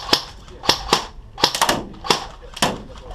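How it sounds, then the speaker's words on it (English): Airsoft guns firing on an outdoor compound field, sharp snapping shots in irregular bursts, some in quick doubles, close by and loud, with no talk over them. "They're shooting from that way."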